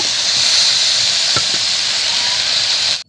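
Boiled potatoes coated in salt and turmeric sizzle in a hot pan with a steady, bright hiss and crackle, continuing evenly before cutting off abruptly at the end.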